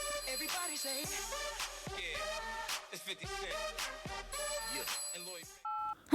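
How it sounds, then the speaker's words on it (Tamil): A telephone call being placed in a Tamil film scene, with a series of short electronic dialing beeps and tones over light background music, ending with a brief ringing tone. "சாரி கேட்கலான்னு அவளுக்கு கால் பண்ணேன்."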